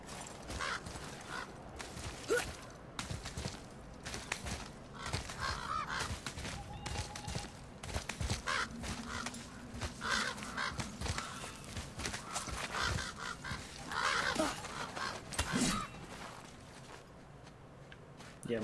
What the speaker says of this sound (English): Mostly sounds like it's just a bunch of crows, not ravens.